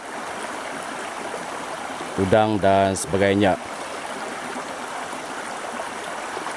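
A clean, unpolluted river flows with a steady, broad rushing wash throughout, while someone speaks briefly over it in the middle.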